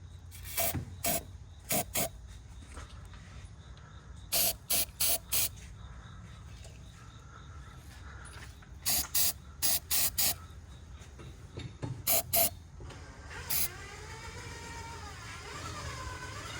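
Short repeated bursts of spray paint hissing from an aerosol can while touching up a cut area on a Chevy ZR2 truck, close and sharp over a steady low hum, ending with a longer wavering hiss.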